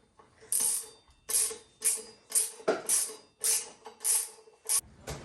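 Repeated ratcheting of a 9/16 wrench tightening the rear wheel nuts on a 1974 Harley Ironhead chopper, with about eight short, sharp clicking bursts in an uneven rhythm, close and clear with no talk.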